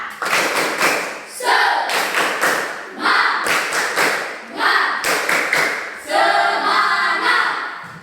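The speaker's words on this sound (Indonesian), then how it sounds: "tepuk tangan untuk si Caron." A school class claps for a student during a lesson, with bursts of patterned rhythmic claps broken by short pauses. Voices come in between and alongside the claps.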